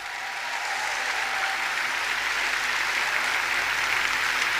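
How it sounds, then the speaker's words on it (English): Sustained applause from a large audience at a conference closing ceremony, dense and even throughout with no talking over it. "Give yourself a round of applause."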